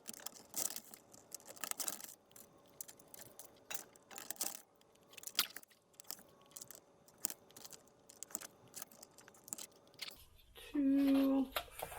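Scissors snipping paper strips cut from repurposed boxes, a run of short irregular crisp cuts up close, with a brief louder rustle near the end.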